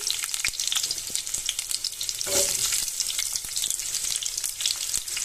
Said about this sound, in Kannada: ಬಾಣಲಿಗೆ ಎಣ್ಣೆ ಹಾಕ್ಕೊಂಡಿದ್ದೀನಿ ಆ್ಯಂಡ್ ಸ್ವಲ್ಪ ಎಣ್ಣೆ ಎಲ್ಲ ಕಾದ್ಮೇಲೆ ಈರುಳ್ಳಿ ಹಾಕ್ಕೊಳ್ಳಿ